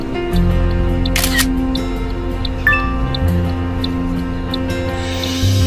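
A camera shutter clicks as a picture is taken, a single sharp snap standing out over a steady low hum, with a second fainter click shortly after.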